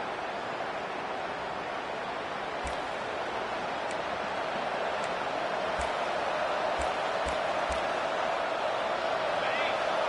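Steady roar of a large stadium crowd in a college football video game, constant and dense throughout, with faint scattered ticks and a commentator talking over it.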